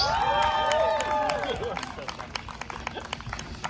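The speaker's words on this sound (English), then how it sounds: "let's give him a big round of applause to Mr. Zach Abrams" An audience at an info event gives applause and cheers, with crowd noise and clapping fading in over sweeping, tonal sounds that dominate the opening before sharper claps emerge and continue through the close.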